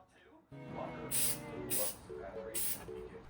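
Spray primer hisses in three loud bursts onto a custom Ancient Egyptian predator figure, with soft handling noise and faint tones in between.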